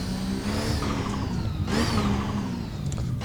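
Car engine revving hard at a drift event to warm the tires, a close, loud, continuous roar rising and falling in pitch with a rough whine on top.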